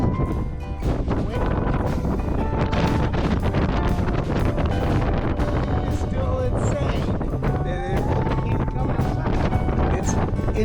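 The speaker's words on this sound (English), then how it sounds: "Insanely windy outside still" Insanely strong wind blows outside a remote hermit's homestead, a constant loud roar battering the microphone, with a voice speaking faintly underneath and scattered knocks and rustles.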